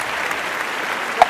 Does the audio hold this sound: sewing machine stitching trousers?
no